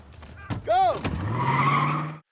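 Vehicle tires squeal and skid as it speeds away, a short loud screech that rises and then sustains over an engine roar before cutting off, with a brief shout near the start.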